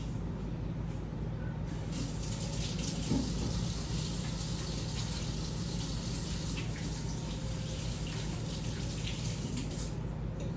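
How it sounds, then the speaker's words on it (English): Tap water running steadily while hands are washed, a continuous close rushing stream over a low background hum, lasting about ten seconds. "Let me just wash my hands really fast."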